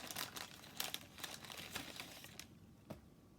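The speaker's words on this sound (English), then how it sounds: "The battery has some plastic wrapping on it, so you're going to want to take that off first" Thin plastic wrapping is peeled and crinkled off a battery pack for a coin-eating robot toy, giving a run of quiet, close crackles and rustles that stop briefly near the end.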